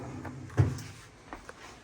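An empty drawer in a piercing studio slid shut with a single muffled thud, followed by a couple of faint knocks, close and quiet with no speech.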